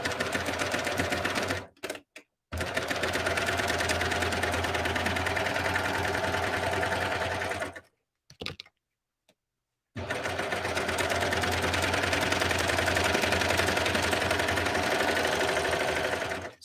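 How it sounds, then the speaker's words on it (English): A cover stitch sewing machine sews a curve in long, steady whirring runs broken by two short stops, close and even in loudness, with no talk over it. "I didn't even put my curve foot on, and I can still sew a curve"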